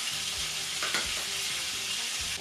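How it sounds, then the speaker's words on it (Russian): Fish frying in a pan for a fish-under-a-coat dish, a steady close hiss of hot oil that holds throughout, with a few soft clicks from the pan. "Рыбка хорошо обжарилась."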